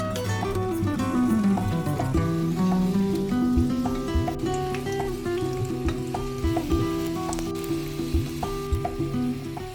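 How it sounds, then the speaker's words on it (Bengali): Potatoes fry together in mustard oil over medium-high heat, giving a steady close sizzle and crackle, with faint stirring and scraping throughout. "সমস্ত আলুগুলো একসাথেই ভেজে নেব।"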